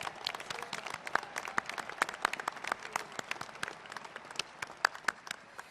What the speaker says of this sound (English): let's give applause for Rebecca